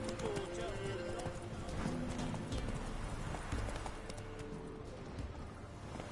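Horse hooves clip-clop at a steady walking rhythm in The Witcher, with game music and voices layered over the footfalls.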